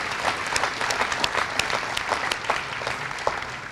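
An audience at an elementary school dedication ceremony claps steadily in a dense burst of applause that holds at an even level throughout, with no one speaking over it.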